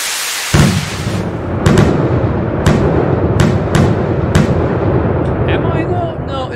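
A titanium firework explosion in a modded fireworks game: a sharp burst followed by crackling pops and several bright, sharp reports spread across the clip, loud and close, with a steady rumbling wash underneath.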